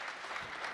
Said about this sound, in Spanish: Ahora sí, nuevamente vamos a aplaudir.